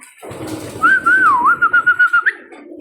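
Racing pigeons in their loft give a clear, close whistling call with a wavering, rising-and-falling tone, followed by a quick series of pulsed notes, over a low rumbling background.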